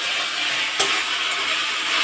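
Potatoes and aubergine sautéing with spices in a pan, a dense, even sizzle with one sharp scrape of stirring partway through.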